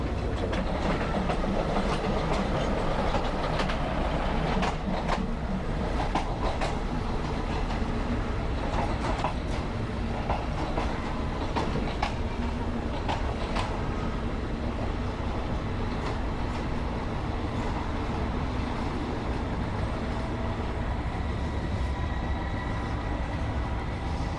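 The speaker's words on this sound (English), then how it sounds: "as the train heads in between these built-up areas" A steam train rolls steadily along the rails between Bangkok and Ayutthaya through built-up areas, with a continuous rumbling roar and faint clattering of wheels, loud and close throughout.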